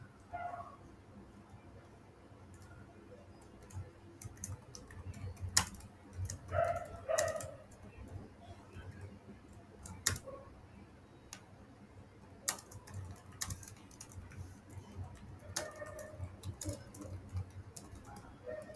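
Keys tapped on a computer keyboard while a social media caption is written, heard as scattered soft clicks in uneven bursts over a low room hum, close and fairly quiet.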